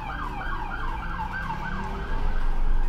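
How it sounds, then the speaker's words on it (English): An emergency vehicle siren wails in a rapid, repeating up-and-down pattern as it passes along a town street in Iowa, loud and close over low traffic rumble, with no talk. "I paused the timer there once I split just to let the siren go past."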